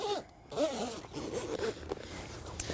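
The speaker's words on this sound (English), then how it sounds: "You've got a central pouch which zips up and protects the rod in the middle." A zipper closes the central pouch of a TF Gear rod holdall, a close, scratchy run of short zipping strokes with brief pauses.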